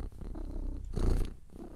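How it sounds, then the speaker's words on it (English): A kitten purring, a soft rhythmic rumble that swells in the second half, close and quiet with no talking. "the purring of a kitten,"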